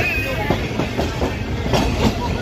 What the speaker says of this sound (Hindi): सामने राइवेंट का रेलवे स्टेशन नजर आ गया मुझे और ये आधे घंटे में ही रेलवे पहुंच गई